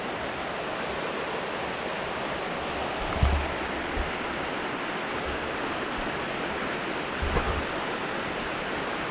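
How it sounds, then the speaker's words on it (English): River water rushing near rapids at a campsite, a steady broad roar close by, with a couple of low thumps in the middle and near the end. "Found a little area to get to the river closer."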